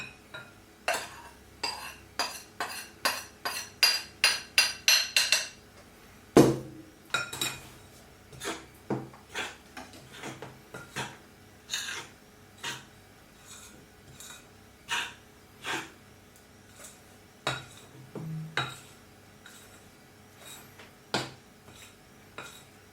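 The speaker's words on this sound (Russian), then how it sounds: "Опять-таки тщательно перемешиваем." A spoon or whisk stirs banana pancake batter with added flour in a bowl, rapid rhythmic clinks and scrapes at first, then slower irregular knocks against the dish, close and crisp with soft breathing.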